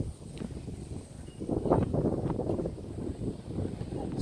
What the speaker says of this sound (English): It is pretty windy here, so that's probably going to affect the audio quality.